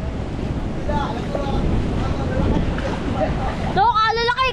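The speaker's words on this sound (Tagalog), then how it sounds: "Pagkalaki ng alon." Big storm surge waves wash and roar against a coastal shoreline where homes sit near the water, a steady heavy rumble with wind buffeting the microphone, followed by excited voices near the end.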